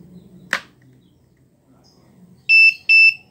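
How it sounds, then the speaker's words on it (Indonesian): A fingerprint door lock beeps twice, two short bright electronic buzzer tones in quick succession, after a single sharp tap near the start, with a faint low background hum. "jika saya coba menggunakan sidik jari yang belum saya daftarkan, maka buzzer akan berbunyi"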